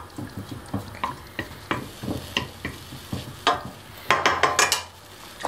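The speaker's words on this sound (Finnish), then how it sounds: "Mukavasti sihisee niin kuin pitääkin." Onions fry in a pan while a wooden fork stirs them, giving a soft sizzle under a rhythmic series of scraping strokes that quicken into a faster flurry near the end.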